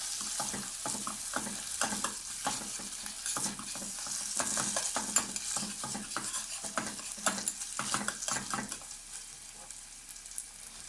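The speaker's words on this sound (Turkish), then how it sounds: "Salçamızı bir miktar kavuruyoruz." Tomato paste with a spoonful of butter fries in a pot, crackling and sizzling under a rhythmic series of spoon stirs and scrapes, moderately quiet and close, without speech.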